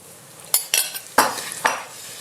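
Flour stirred into hot oil for Bosnian halva, heard as four sharp metallic scrapes and clinks of a spoon against the pot over a faint sizzle.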